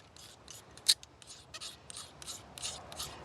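A Swiss Army knife blade scraped along a ferro fire starter rod over split maple tinder, giving several short rasping strokes with one sharp bright scratch early on, close and fairly quiet.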